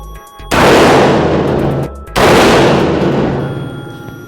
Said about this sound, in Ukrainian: ми стріляємо по лінзі Раптор з гладкоствольного карабіну 20-го калібру, дріб номер 3